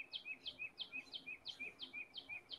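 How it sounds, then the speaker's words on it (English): A bird chirps repeatedly near a window, a steady series of about a dozen quick, evenly spaced high tweets, fairly close and clear over quiet room tone. "Is there a bird somewhere?"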